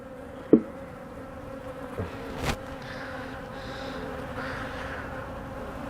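Bees buzz in a low, steady drone around an open hive infested with small hive beetle larvae, punctuated by a couple of sharp knocks from handling the frames.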